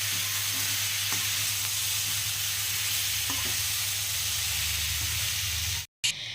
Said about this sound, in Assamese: মাংস বহাই আছোঁ এইফালে, আৰু এইফালে মাছ অকণমান